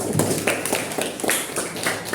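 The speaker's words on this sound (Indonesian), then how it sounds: "Tepuk tangan buat kelompok 4." Applause from a classroom of students for a group presentation, a dense steady patter of many hands clapping at close range for about two seconds.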